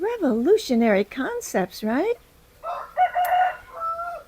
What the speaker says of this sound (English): I know you can hear my neighbor's rooster in the background.